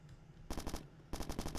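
Rapid automatic gunfire from the video game Bad Bots comes in two loud, close bursts of quick repeated shots, separated by a short lull, with no talking over it.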